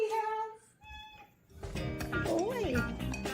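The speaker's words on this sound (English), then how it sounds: "What a cute little meow he" A small shelter cat named Boo gives a few short meows, and a human voice talks around the cries at close range.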